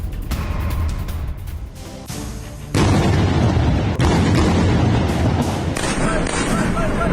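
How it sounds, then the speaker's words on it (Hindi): Heavy booms and blasts from Israeli air strikes on the Gaza Strip at night roll one after another, loud and dense, with a continuous roar and crackle throughout. "रात का घुप अंधेरा, एक के बाद एक धमाका, जमीन पर आग की लपटें"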